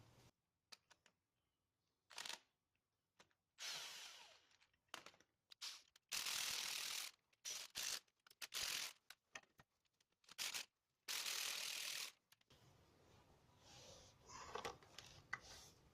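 A ratchet loosens a nut on a Lexus LS460 front strut mount in short, separate bursts of close, sharp clicking with quiet pauses between them; no voices.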